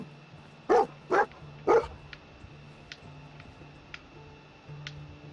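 Dogmeat, the dog companion in the video game Fallout 4, gives three sharp barks in quick succession, followed by faint ticking and small game noises.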